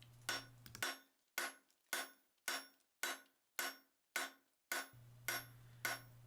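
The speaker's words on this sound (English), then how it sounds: "I'm using the peen and my cross peen here to get things started" Cross peen hammer blows on hot steel during blacksmith forging of a grille frame, about ten sharp ringing strikes in a steady rhythm, each decaying quickly, close and loud with a faint low hum between.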